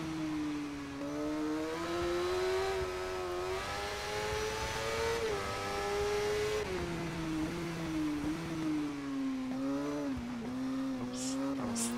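Motorcycle engine in the TT Isle of Man racing game on PC, a sustained high rev note rising and dipping through short-shifted gears, loud and continuous, with no talk.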